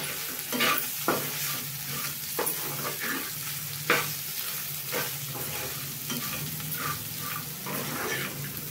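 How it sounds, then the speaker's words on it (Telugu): Okra frying in a pan with salt being stirred through it, steady sizzle broken by repeated scraping strokes of a spoon, close up with no voices. "ఇప్పుడు మిక్స్ చేస్తాను"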